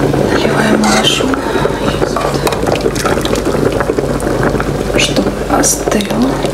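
Homemade soup is poured from a pot into a child's bowl in a kitchen, a continuous close splashing and trickling of liquid with clinks.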